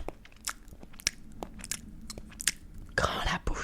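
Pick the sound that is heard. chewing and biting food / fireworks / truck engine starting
chewing and biting food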